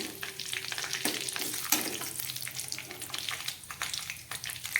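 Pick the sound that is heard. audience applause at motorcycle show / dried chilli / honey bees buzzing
dried chilli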